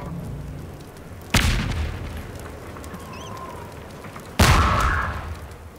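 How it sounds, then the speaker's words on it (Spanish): Two loud grenade explosions in the video game Half-Life 2, each a sharp booming blast that rings out and fades, about three seconds apart, over a low battle ambience. "Las granadas, Gordon"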